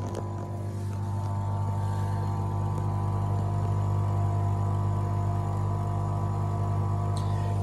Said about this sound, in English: That noise you hear inside is a pump.